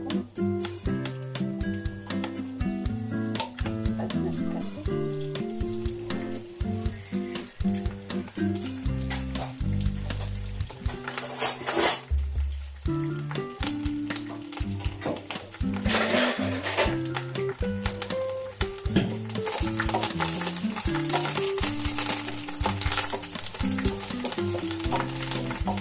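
Curry leaves crackle and sizzle in hot oil for a pesarattu curry, with continuous frying hiss, a sharp burst of spattering midway, and occasional spoon clinks against the pan.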